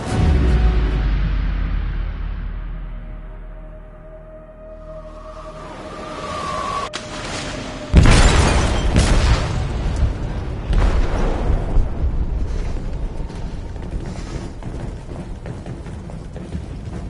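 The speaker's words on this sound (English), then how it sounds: "They detonated an explosive in the hold." A huge in-game blast in a ship's hold booms out and fades to a low rumble, then a second violent explosion erupts with crackling debris and a long churning roar afterward.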